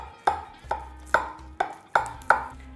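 A knife cuts into a baked spaghetti pie wrapped in crisp phyllo dough, giving six sharp, crackling crunches in an uneven rhythm, close and fairly loud with no talk.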